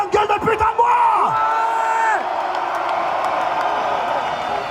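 A large festival crowd at a metal concert cheers and whoops loudly, with several voices shouting over a sustained roar of applause and noise.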